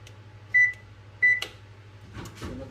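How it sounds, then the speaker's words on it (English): A kitchen oven is switched on: two short electronic beeps sound about a second apart over a low steady hum, followed by faint clicks and handling noises as it starts running. "I think I need to turn on the oven now"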